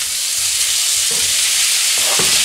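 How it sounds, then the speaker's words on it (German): Meatballs fry in a hot pan, giving a loud continuous sizzle with a few soft stirring knocks underneath and no voices. "Und lasse sie da drinnen anbraten. Von allen Seiten."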